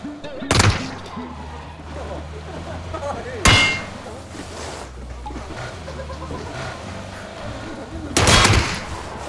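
Gunshots in a battle royale video game ring out as a few sharp, loud bursts spaced apart, with the third a longer burst, over steady game background noise.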